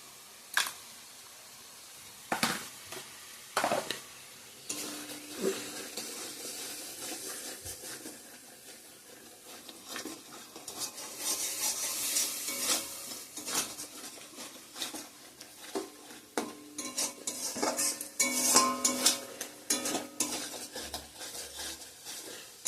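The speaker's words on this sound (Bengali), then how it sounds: "ভালো করে কষিয়ে নিই, পরে এসছি।" Chicken curry with chili powder sizzles in a pan while being stirred, quiet frying under sharp clinks and scrapes of a spoon against the metal, the knocks coming irregularly and growing busier toward the end.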